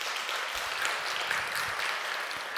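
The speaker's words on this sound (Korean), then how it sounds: "우리 격려에 박수 한번 해드려요." A church congregation applauds in encouragement for an Israel missionary and his son, a dense, steady wash of many hands clapping that fills the room without pause.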